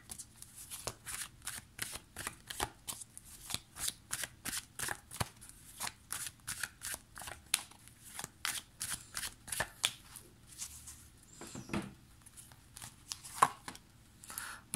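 Tarot cards being shuffled by hand, a long series of quick, crisp riffles and soft flicks in an irregular rhythm, close and fairly quiet, with no talking.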